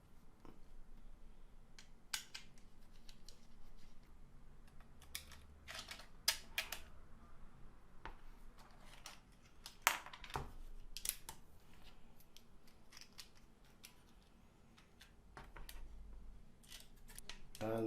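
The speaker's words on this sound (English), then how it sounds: "And that's the final screw tightened" Screws tightened on the back plate of a Logitech G29/G920/G923 racing wheel fitted with an MVH Studios GT Series One mod, with faint scattered metallic clicks and ticks that come and go over a quiet background.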